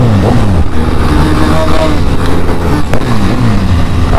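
Suzuki Hayabusa motorcycle engine roaring and revving during a street race, a loud continuous drone with rising pitch sweeps, close and steady throughout with no talk.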